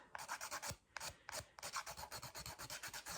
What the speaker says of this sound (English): Still keep your filing in the same direction.